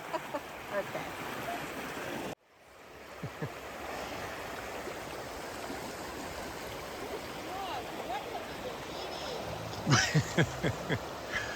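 Resurrection Creek in Hope, Alaska rushes in a steady, continuous wash of flowing water, cut off briefly near the start, with faint voices and small knocks over the current.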